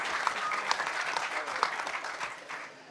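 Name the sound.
audience applause for Hack DC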